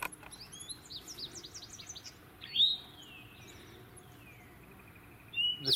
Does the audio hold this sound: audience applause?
no